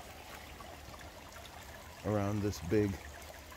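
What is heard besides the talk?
water from drainage pump flowing over small waterfall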